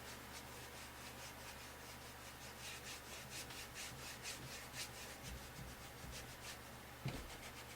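Soft, continuous dry rubbing of a paper towel over paint on a Halloween craft piece, a steady scratchy swishing close up, with one small bump near the end.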